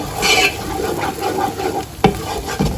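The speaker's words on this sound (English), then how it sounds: "I'm going to scramble them." Eggs scrambled in a pan over a high gas flame, a close, continuous scraping and shuffling stir over a soft sizzle, with a couple of sharper utensil knocks near the end and no talking.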